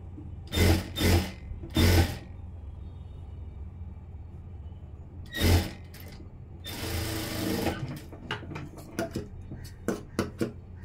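Sewing machine stitching along the edge of a blouse: three short running bursts, a pause, another burst, then a longer steady run followed by a string of quick stop-start stitches, close and loud with no talking.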